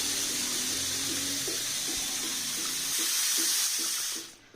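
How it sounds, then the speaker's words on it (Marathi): Water running from a bathroom shower and tap fed by a Grundfos SCALA2 pressure pump, a steady close hiss and splash with a faint repeating knock underneath, cutting off at the end. "शॉवर त्याचबरोबर टॅप पण चेक करून घेणार आहोत"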